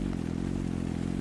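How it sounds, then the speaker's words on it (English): A small moped engine in a horror video game drones steadily at a low pitch, a close, continuous hum with no talking. "Okay, we're in a little moped."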